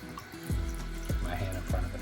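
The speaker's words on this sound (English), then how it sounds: "as you start to turn it, the water comes down and washes the nozzle" Water runs from a Tushy bidet nozzle as it washes itself in an RV bathroom, a steady splashing stream with three repeated low gurgling pulses, close and moderately loud.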